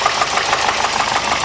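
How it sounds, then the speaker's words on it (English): A Volvo turbo car engine runs steadily nearby after a makeshift radiator hose repair, a continuous rough mechanical hum with a faint knocking texture and no talk. "Engine doesn't sound so bad after a lot of abuse."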